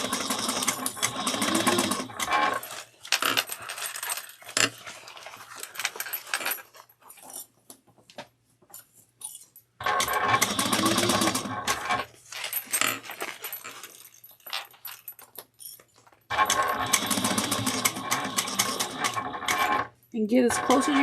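A sewing machine stitches a quilted bag in three bursts of rapid mechanical whirring, each running a few seconds, separated by quieter pauses with handling noises and a brief dog-like whimper.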